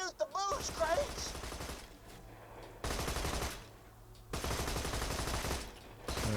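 Enemies fire guns in a Borderlands 2 firefight, rapid bursts of automatic gunfire arriving in loud blocks separated by brief quieter gaps, with some game effects at the start.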